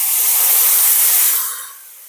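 Marinade poured into a hot pan of beef bistek tagalog sets off a loud, steady, close sizzle that holds for over a second and then eases to a softer hiss.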